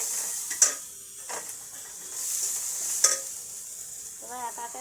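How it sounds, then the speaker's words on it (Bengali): Sliced potato, beans and carrot frying in a pan, with a constant sizzle under sharp metal scrapes and clinks from a spoon being stirred, plus a short rattling sound near the end. "সবজিগুলো সব ঢেলে দিয়ে কষছি।"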